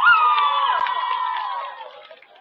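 Crowd at a Herricks High School homecoming event cheering for the cheer team, a loud sustained roar with whoops and shouts that slowly fades over a couple of seconds.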